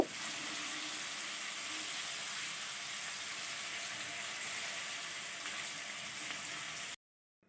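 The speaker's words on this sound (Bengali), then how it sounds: "আমি সবজিগুলোকে একটু ভালোভাবে ভেজে নিব" Vegetables frying in a pan with salt and turmeric, a steady, even sizzle that holds at moderate loudness for about seven seconds and then cuts off abruptly.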